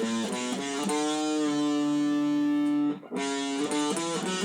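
An interlude on an overdriven electric guitar: a steady run of sustained, distorted notes with a long held tone in the middle, a brief drop-out, then the rhythmic figure resumes, loud and close with no voices.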